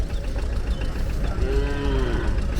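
At a cattle market a cow lets out one clear, drawn-out moo, rising and falling, over a constant low rumble of engines and crowd noise.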